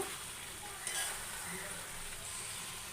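Chicken and potatoes sizzle steadily in a pan while being slow-fried into a kosha-style dry curry, a constant close hiss with a faint clink of a spatula partway through.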